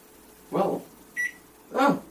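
A Samsung microwave oven gives a short power-on beep sequence after being plugged in: two soft tones with a brief higher chirp between them, close and clear over quiet room noise.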